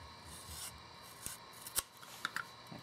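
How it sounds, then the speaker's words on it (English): A knife cuts down the sheathing of 14-2 electrical wire, producing faint scraping and rubbing with a few sharp snips and clicks in a quiet room. "take your knife and cut down the sheathing"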